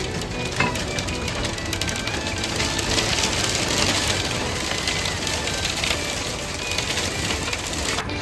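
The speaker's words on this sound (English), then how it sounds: "Looks like the hail has started." Hail and heavy rain pound a moored boat in a marina during a storm, a dense, steady rattle and hiss of impacts on the hull and windows that holds loud and unbroken throughout.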